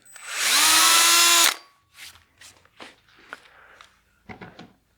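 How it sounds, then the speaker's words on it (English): A power drill with a 1/4 inch bit whirs loudly for just over a second during woodturning bowl roughing, then winds down, followed by several knocks and clunks of handling. "I'll be using a 1/4 inch drill bit"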